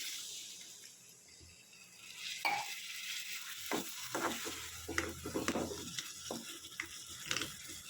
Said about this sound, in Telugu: ఇప్పుడు ఇందులో కొన్ని వాటర్ పోసుకుందాం.